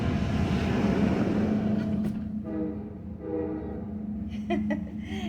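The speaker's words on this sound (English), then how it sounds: "There goes the train." A train rumbles past with a steady low horn blast. Its rolling noise fades into the distance, and a few faint clanks and squeals follow.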